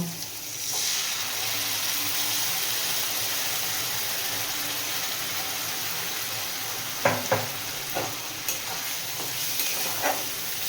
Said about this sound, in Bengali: যতক্ষণ না পর্যন্ত জলটা শুকিয়ে যাচ্ছে ততক্ষণ এরকম করে আমি নাড়াতে থাকবো